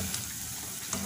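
Onion pakoras fry in hot oil over high heat, a brief continuous sizzle broken by two quick stirring scrapes.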